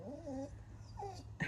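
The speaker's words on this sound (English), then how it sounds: "That's my dog moaning in the background because he wants to come out." A Cocker Spaniel whimpers to be let out, two thin rising-and-falling whines in the background, faint and plaintive, followed by a brief knock at the end.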